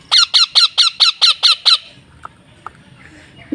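Pet parakeet squawking in its cage, eight loud, shrill calls in a quick even row, followed by quieter background sounds and a brief voice near the end.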